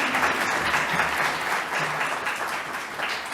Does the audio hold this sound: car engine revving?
no